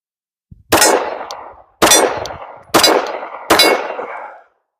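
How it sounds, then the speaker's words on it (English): Four sharp 9mm pistol shots ring out and strike a 75% steel silhouette target downrange, each crack followed by a bright metallic clang that decays slowly, evenly spaced about a second apart with no talk. "Four shots on target."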